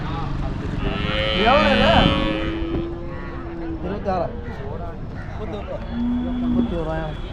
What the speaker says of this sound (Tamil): இதுவும் பார்த்தீங்கன்னா ஜல்லிக்கட்டு மாடு